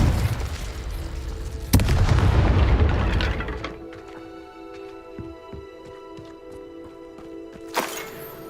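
A Confringo blasting spell explodes in Hogwarts Legacy with a loud, booming burst, followed by a fading rumble and a quieter ringing tail, then a second sharper pop near the end.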